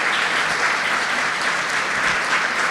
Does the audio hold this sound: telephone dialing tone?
no